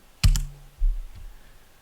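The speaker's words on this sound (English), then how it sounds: "reset this by clicking in it and typing 0" Two or three quick, close key presses on a computer keyboard during 3D animation work in Blender, short crisp clicks in a quiet room.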